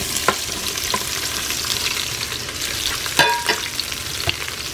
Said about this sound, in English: Then we're going to saute some onions.